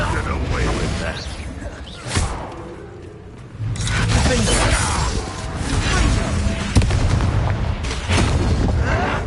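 Confringo fire spells blast in Hogwarts Legacy combat, loud booms and whooshes layered over a dense, continuous rumble of battle effects, with a sharper burst near the middle.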